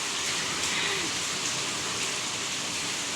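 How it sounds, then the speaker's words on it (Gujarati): Heavy monsoon rain, easing off slightly, falls as a dense, steady hiss that fills the whole scene evenly and loudly, with no voices over it. "અત્યારે થોડોક ધીમો પડ્યો હોય વરસાદ"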